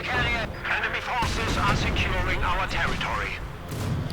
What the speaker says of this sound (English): nice work there with incendiary and regular mortar rounds, really taking a huge toll on the advancing guards infantry